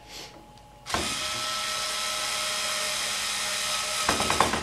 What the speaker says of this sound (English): So now you just start screwing it back together.